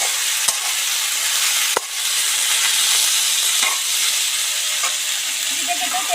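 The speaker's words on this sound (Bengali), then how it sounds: "কলা ভাজা এমনি তেলের উপর দিয়ে একটু ঢাকা দিয়ে দিলেই ভাজা হয়ে যায়" Sliced green banana fries in oil in a covered pan, a steady bright sizzle that runs continuously with a few faint clicks, close and loud.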